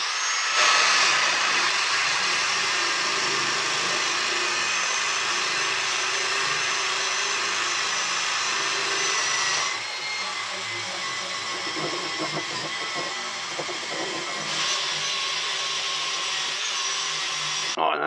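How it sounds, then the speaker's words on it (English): A power drill fitted with a scrubbing brush spins against a surface, giving a loud, steady whirring grind that runs throughout and shifts slightly in tone partway through. "Right then, so I've got myself a drill brush set up."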